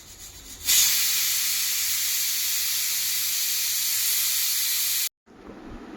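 A pressure cooker of tomato dal on a home stove releases a loud, steady jet of hissing steam for several seconds before it cuts off abruptly, with quieter kitchen background after.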